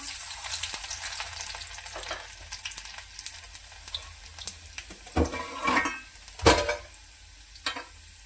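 Garlic cloves and cumin frying in a pan produce a continuous hissing sizzle, with several louder spitting bursts and stirring scrapes toward the end.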